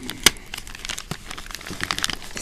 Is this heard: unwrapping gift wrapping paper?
yes